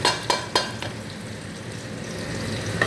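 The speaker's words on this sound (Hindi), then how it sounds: "अब इसके अंदर मैंने ये प्याज डाली, घी ली, तेल लिया, इसके अंदर प्याज डाल दी मैंने" Onion frying in ghee and oil on high heat makes a steady close sizzle. It opens with a few quick clinks of a spoon against the pan.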